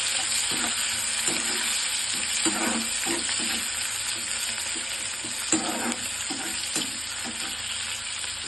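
Onions sauté in a pan for an okra stir-fry, with a constant sizzle broken by repeated scraping stirs of a spatula at close range.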